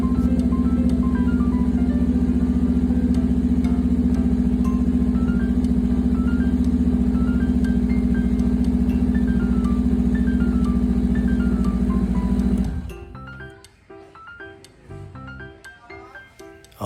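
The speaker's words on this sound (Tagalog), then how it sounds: "So, hayaan nyo lang siyang umandar for 30 to 60 seconds para mag-circulate yung langis." A Honda CBR500R motorcycle idles after an oil change, its engine holding a steady, close, even hum with a strong low drone for about twelve seconds before it is switched off, leaving quiet clicks and handling noises.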